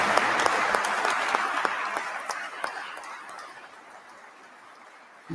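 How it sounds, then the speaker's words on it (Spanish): An audience applauds at a church gathering, a dense and steady wash of clapping that holds strong and then slowly thins and fades toward the end. "quiero pedir también un voto de aplauso"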